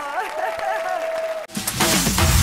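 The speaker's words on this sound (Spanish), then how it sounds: "Aplauso para Patricia Zavala, que es mi fan." A television talk show studio audience breaks into loud applause after a short stretch of voice, the clapping swelling abruptly and continuing to the end.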